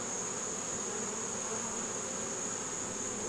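Honeybees swarm and buzz around an open nucleus hive in September, a dense, constant close-up drone filling the whole short stretch, with no talking.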